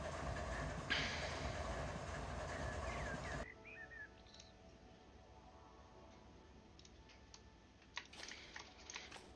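A freight train in the Run8 train simulator rumbles loudly with rail noise, then cuts abruptly to a quiet steady hum broken by a few faint clicks as it comes to rest, parked.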